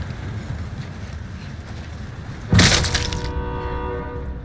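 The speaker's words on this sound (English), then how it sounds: "I think the train ran me over." Train in Call of Duty Warzone: a sudden loud crash and rush of a passing train with a blaring horn-like tone, rising over steady background game noise and fading out over a couple of seconds.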